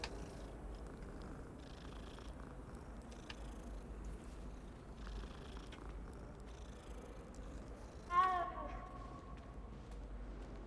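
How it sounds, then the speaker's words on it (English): A cat in the Hogwarts Legacy video game purrs faintly under a quiet, steady ambient backdrop, followed by a short bright chime near the end. "It's a kitty cat."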